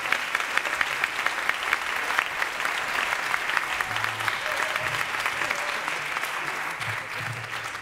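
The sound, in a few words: audience applause welcoming a performer on stage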